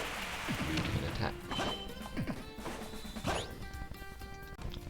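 A Super Smash Bros. fighter crashes to the ground, heard as several sharp thuds and smashes inside dense, continuous game music and effects that run throughout.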